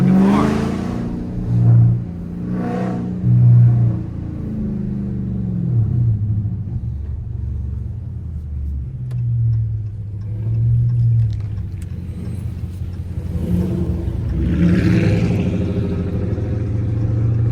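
A straight-piped Dodge Scat Pack rumbles loudly through downtown Charlotte, its engine revving in swells with crackling exhaust pops and clatter between pulls, close and dominant.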